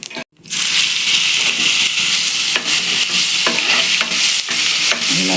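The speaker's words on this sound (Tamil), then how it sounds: "சவந்துருச்சு இப்போ வெங்காயம் போட்டுக்கலாம்ப்பா" Onions go into hot oil with curry leaves and a dried red chilli for chicken gravy. A loud, close sizzle starts at once and holds steady, broken by the scrape and clatter of a spoon stirring the pan.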